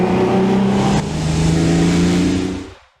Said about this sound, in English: in the roar of an engine,